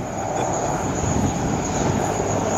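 A German Army CH-53 helicopter, powered by twin General Electric T64 turboshaft engines, performs a display at the ILA Berlin Air Show 2012. Its loud, steady engine roar and high turbine whine continue without talking.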